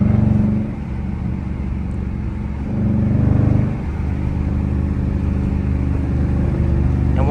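A Dodge Charger R/T engine drones loudly from inside the moving car, with a steady low rumble that swells as it revs up twice before settling back to cruising.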